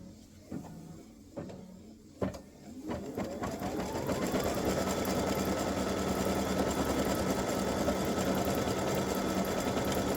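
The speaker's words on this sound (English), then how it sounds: "let's do the satin stitching around the design" A sewing machine satin-stitches around a Christmas bow design on a T-shirt: a few clicks and knocks first, then a steady, close, continuous mechanical whir running to the end.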